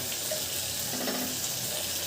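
Water poured into a mutton curry cooking in a pot sets off a steady, close hiss and sizzle with faint bubbling, unbroken and with no voices.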